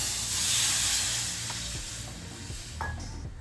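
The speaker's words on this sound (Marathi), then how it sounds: "ह्यामध्ये पाणी गरम करून घेऊया" Water heating in a wok for sesame ladoos gives a soft, steady hiss of steam with a few faint clicks and taps, quiet and close.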